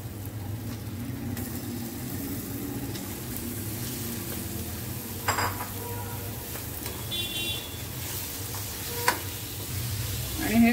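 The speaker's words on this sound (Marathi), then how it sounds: "आता यामध्ये आपण कोलंबी घालूया" Prawns fry in a red masala in a hot pan, giving a steady close sizzle with occasional sharp utensil taps and scrapes, while faint street traffic and a distant car horn sound in the background.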